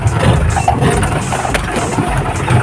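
A safari jeep engine grinds steadily through a steep downhill descent on a Kerala jeep safari, a loud, continuous mid-range drone with slight fluctuations and rattling throughout.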